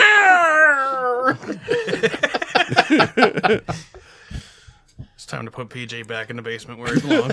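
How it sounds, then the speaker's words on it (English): A cat yowls in a drawn-out, wavering scream at the start, followed by a person talking over brief noise, then more voices near the end. "That was the cat."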